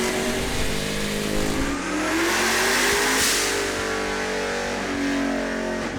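A Nissan S13 pro drift car engine revs hard and loud close by, a sustained high-rpm roar that drops briefly and then climbs again through the whole stretch.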